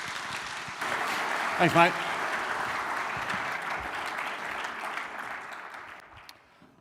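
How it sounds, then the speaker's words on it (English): A church audience applauds steadily for several seconds, a broad even clatter that fades toward the end, and a voice speaks briefly over it partway through. "Let's give him a round of applause."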